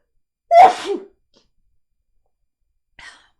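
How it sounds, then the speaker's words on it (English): A single loud, close sneeze bursts out, followed by silence and a faint short breath a few seconds later. "I just had to sneeze"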